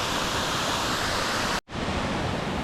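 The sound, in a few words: waterfall cascading into a creek rock pool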